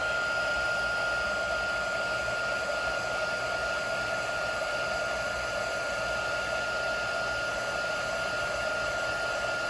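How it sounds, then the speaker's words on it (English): A heat tool blows a steady, loud whirring hiss as it melts embossing powder on a stamped card, holding constant with no pauses. "now I'm going to heat this to set it."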